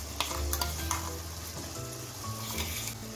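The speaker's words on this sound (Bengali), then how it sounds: "এখন সবকিছু ভালো করে মিশিয়ে নিচ্ছি।" Chicken curry masala stirred and frying in a pan, with a steady close sizzle and a few scraping strokes of the spoon over about three seconds, no voices.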